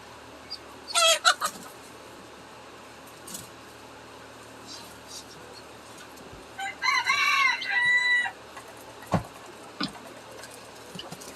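Silkie chickens cluck and roosters crow in a backyard coop at winter feeding time, with two loud crowing bursts standing out against steady quieter background clucking and farmyard noise.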